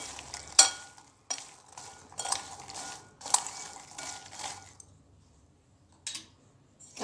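Microwave-roasted foxnuts (makhana) are stirred in a dish, several bursts of dry rattling and scraping close by, separated by short pauses and trailing into near silence.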